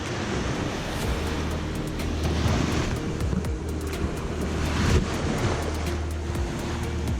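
Sea waves wash onto a Corsican naturist beach near Bodri and Ghjunchitu. The surf rolls in a steady, continuous rush with some wind buffeting the microphone, and no one speaks.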